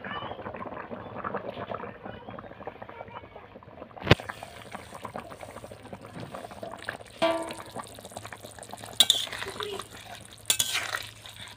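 A spoon stirs a cauliflower and egg curry in a pot, giving soft scraping and liquid sloshing amid sharp clinks and knocks of utensils against the pan.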